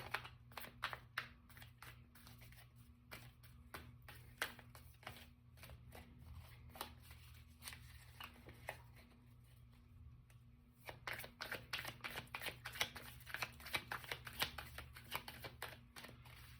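Tarot cards being shuffled by hand, with quick riffling bursts of crisp, papery clicks. The bursts come in uneven clusters, sparser in the middle and denser toward the end, all fairly close and quiet, with no talking.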